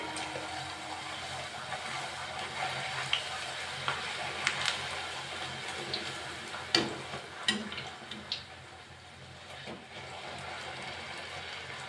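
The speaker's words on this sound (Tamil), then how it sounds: "எண்ணெயில் பொரித்து எடுத்துடலாம். இப்போ எண்ணெய் நல்லா காஞ்சிடுச்சு" Masala poori frying in hot oil, a steady low sizzling hiss throughout with a few faint clicks and pops, no voices.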